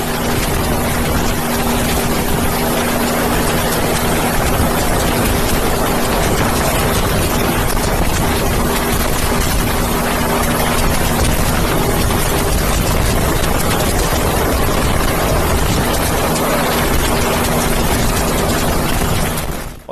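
A rescue helicopter lifts stranded Indian people off a ship one by one, its engine and rotor making a loud, steady, unbroken drone that fills the whole stretch with no voices.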